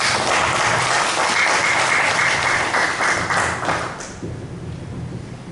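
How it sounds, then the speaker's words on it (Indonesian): Seminar attendees applaud with dense, loud clapping that holds steady and then tapers off toward the end. "Kasih tepuk tangan dia."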